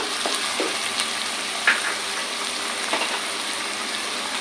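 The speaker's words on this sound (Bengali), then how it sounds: "দিয়ে দিব তিন টেবিল চামচের মতো পেঁয়াজ বাটা দিয়ে এখন আমি এটা একটু ভালোভাবে ভেজে নিব" Onion paste fries in a pan for a prawn and banana-flower kofta curry, giving a loud, even sizzle with occasional scraping stirs and small pops, close by and without speech.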